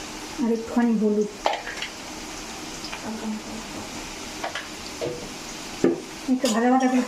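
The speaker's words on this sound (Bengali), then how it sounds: "আমি আলুগুলো আগে ভেজে নিব।" Potatoes frying with a little turmeric in a pan, a steady sizzle running throughout with occasional stirring scrapes and utensil clinks, while a voice speaks briefly at the start and near the end.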